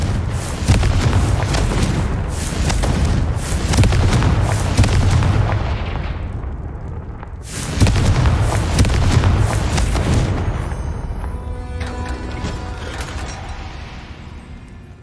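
Confringo fire spell blasts in the Hogwarts Legacy video game, a rapid barrage of loud booming explosions with crackling bursts, a brief lull, then another heavy volley fading into lighter crackles and ringing tones.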